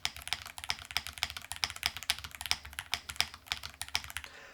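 Keys on an RO75 custom mechanical keyboard clack in a fast, steady stream of close, crisp strikes, continuous for several seconds and heard alone.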